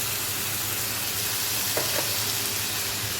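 Onions sizzle and fry in a pan with ginger-garlic paste and whole cumin and coriander paste being stirred in, a steady close hiss with a couple of brief scraping stirs.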